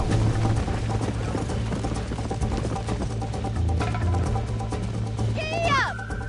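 Horse hooves gallop in Red Dead Redemption, a steady, fast clip-clop rhythm over a low hum, ending with a short whinny-like cry near the close.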